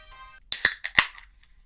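A warm can of Coke being cracked open: a faint metallic scrape, then a couple of sharp close snaps and a hiss-like pop as the tab gives way, fading quickly.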